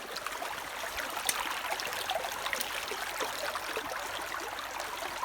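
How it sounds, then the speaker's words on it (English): A river stream flows steadily through farmland, a continuous close rushing and trickling of water heard alone without voices. "you see river stream, you must know it's a good land"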